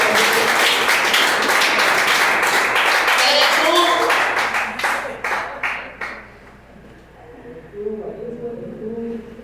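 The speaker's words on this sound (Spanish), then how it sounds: "Dale un aplauso al Rey de Reyes." A church congregation applauds during a sermon, loud sustained clapping that breaks into scattered claps and dies away, followed by voices speaking.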